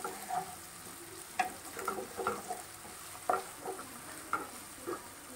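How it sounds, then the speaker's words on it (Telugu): Onions frying with ginger garlic paste in a pan for a prawn gongura curry, a soft steady sizzle broken by scattered ticks and spoon scrapes from stirring. "పచ్చివాసన పోయి ఆనియన్స్ గోల్డెన్ బ్రౌన్ కలర్ వచ్చేదాకా వేయించుకోవాలి."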